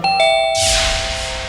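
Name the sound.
doorbell ringing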